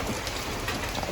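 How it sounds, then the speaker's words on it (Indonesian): Heavy rain pouring steadily outdoors at night, a dense, even hiss of drops hitting surfaces with no voices. "Hujannya lumayan pemirsa"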